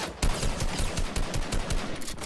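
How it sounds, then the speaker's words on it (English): Gunfire in a shooter video game as an enemy fires on the player: rapid, loud bursts of automatic shots crackling in quick succession without pause. "Kid from Fish is shooting us"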